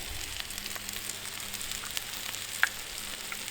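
An egg fries in a pan of spiced keema and potatoes over an outdoor firepit, giving a soft, steady sizzle with a few faint crackles, quiet and continuous.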